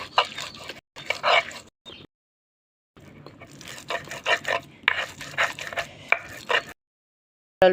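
Rough rhythmic scraping and grinding strokes in bursts as onion, garlic and chilli mash is ground on a stone slab with a grinding stone, with short pauses between runs; close and fairly loud.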